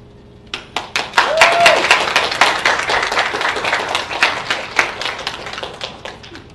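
Audience applause follows a student talk at a student TED conference, a dense burst of many hands clapping that swells quickly and holds steady, with a few faint voices and cheers mixed into the crowd.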